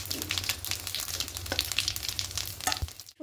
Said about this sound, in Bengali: ফোড়নে দেব হিং দেব আর দুটো শুকনো লঙ্কা আর গোটা জিরে দিয়ে হালকা একটু ভেজে নেব